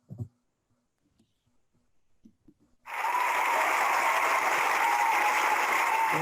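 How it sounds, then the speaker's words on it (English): Steady, dense applause from an online insurance accelerator presentation audience breaks out after a few seconds of near silence and stray small noises, then holds at full, even loudness to the end. "give a hearty virtual standing ovation and round of applause and say thank you to Jeff for all he's done for the GIA"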